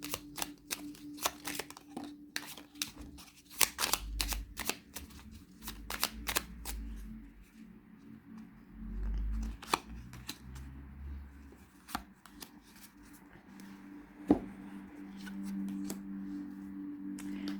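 Tarot cards shuffled and handled by hand, with a steady run of crisp riffling snaps and soft slides, close and fairly quiet, heard on its own without talk.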